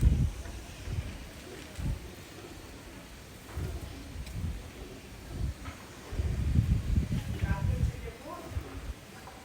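Indian imported Madrasi pigeons give low, soft coos in repeated bursts close by, with a voice heard at times.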